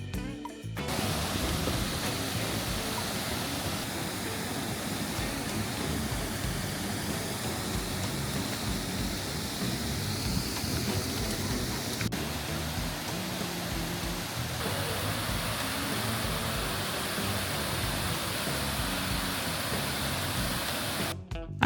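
Waterfall at Malham Cove in Yorkshire in winter, a steady broadband roar of falling water heard continuously at moderate distance with no speech.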